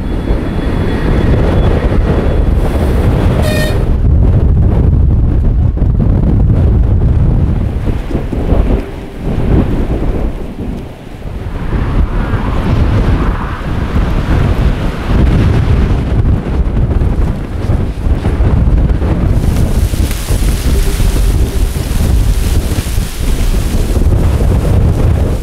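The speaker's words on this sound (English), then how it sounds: "it's very windy in steppes" Strong winter wind on the steppe near Volgograd buffets and roars continuously against the microphone, a loud rumbling rush that swells and eases in gusts throughout.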